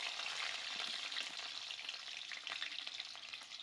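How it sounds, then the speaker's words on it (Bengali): Ginger and garlic frying in hot oil in a pan for chicken masala, a close, continuous crackling sizzle with faint stirring, no voices. "এবার মাংসের জন্য মশলা দেখুন, আদা রসুন ভেজে নিব এই তেলে"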